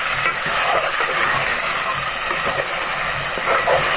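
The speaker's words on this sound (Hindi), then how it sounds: "अब इस मसाले के साथ कीमा को थोड़ी देर भून लेंगे" Minced meat sizzling and frying with spices in a pan over low heat for a qeema and capsicum dish, a steady close hiss with occasional stirring scrapes and no talking.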